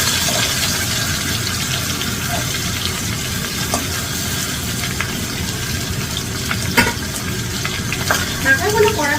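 Katla fish heads frying in a pan, a loud, steady hiss and crackle with a few sharper pops and stirring knocks toward the end.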